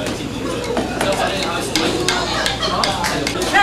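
Milk powder, 70 grams, stirred into milk to dissolve it while making cheese, a steady scraping swirl with light clinks of utensil against the pot, continuous and close throughout.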